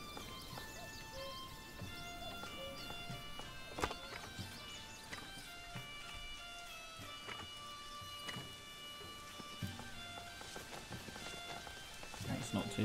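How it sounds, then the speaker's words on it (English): Steady rain falls at night in the medieval city-building game Manor Lords, a continuous soft patter with scattered game sounds and faint hoofbeats mixed in, while someone talks over it. "here comes the rain at night"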